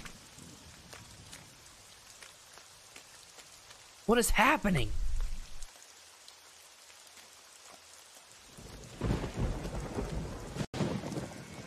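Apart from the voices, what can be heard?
rain and thunder in a video game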